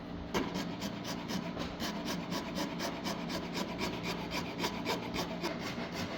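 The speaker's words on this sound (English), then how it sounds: "I'm using my Iwasaki files here, and they make short work of this mahogany." Iwasaki files rasp steadily across a mahogany guitar neck at a workbench, a continuous close scraping with repeated rhythmic strokes and no talk.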